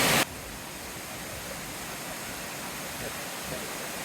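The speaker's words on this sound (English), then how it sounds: "That was a beautiful waterfall and very easily accessible." A waterfall on the Cabot Trail in Nova Scotia in autumn gives a steady, even rush of falling water, constant and moderately loud from start to finish after a brief louder burst at the very beginning.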